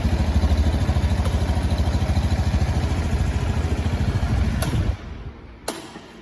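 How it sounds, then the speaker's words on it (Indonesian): Motorcycle engine running close by with a fast, even pulsing idle for about five seconds, then cut off, leaving a quiet tail broken by a single click. "kita cek engine nyala kemudian mati"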